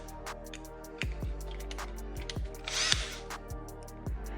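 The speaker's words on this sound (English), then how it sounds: "So now I'm gonna actually go with the 1/8 drill bit, or the 1/4 inch drill bit that it requires." Power drill boring with a 1/4 inch bit into a Harley-Davidson 2020 Road Glide saddlebag, steady motor whine broken by repeated short bursts and stops, with a higher grinding stretch near the middle.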